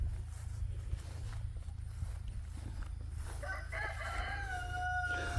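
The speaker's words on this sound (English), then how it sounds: "And there comes one of our pretty black chickens." A rooster crows loudly in a chicken lot, its drawn-out call rising near the end, over a steady low rumble of outdoor noise and faint shuffling among the chickens.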